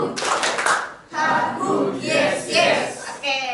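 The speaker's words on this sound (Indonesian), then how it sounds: "coba tepuk semangat" A classroom of students performs a rhythmic cheer clap, bursts of group clapping in short patterned phrases mixed with shouted chanting voices, close and lively.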